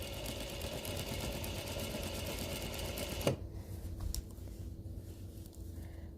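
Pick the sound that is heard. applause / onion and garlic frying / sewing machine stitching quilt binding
sewing machine stitching quilt binding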